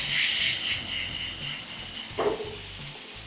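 Eggplant pieces fry in a pan, giving a steady soft hiss and sizzle heard up close, with faint clinks from below the sizzle and no talk.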